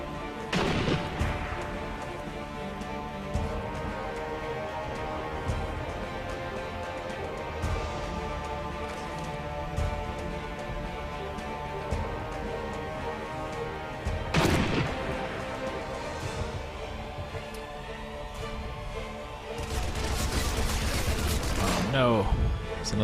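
Machine gun bursts and explosive impacts from the World War II sniper shooter Sniper Elite V2 break out over a steady game soundscape, with sharp loud blasts near the middle and end and someone talking across parts of it.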